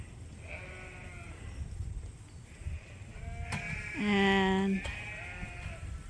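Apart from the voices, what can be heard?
sheep rams bleating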